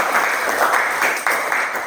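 A short burst of classroom clapping during a tax lesson, a few people applauding together, fairly loud and close, with slight swells in intensity before it trails off.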